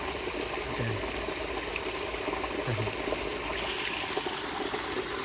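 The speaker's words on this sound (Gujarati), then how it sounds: "એમ પાણી જાય છે મિત્રો" Water gushes steadily from a village well's motor pump, a constant rushing flow without pause and with no talk.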